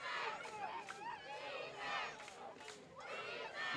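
A home crowd at a high school football game roars and yells from the stands in rising waves. Under the steady din, voices call out and cheer continuously.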